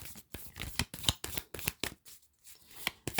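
Oracle cards shuffled and drawn by hand, a quick run of crisp riffling flutters and soft slaps, close and clear, with a brief pause midway before the shuffling resumes.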